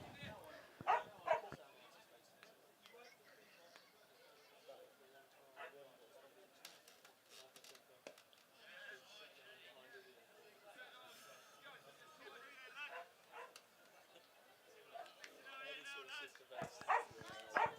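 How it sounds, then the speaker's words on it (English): A dog at an outdoor cricket league match barks and whimpers faintly, in short, scattered yelps and whines over quiet background chatter and voices. "Is that your dog?"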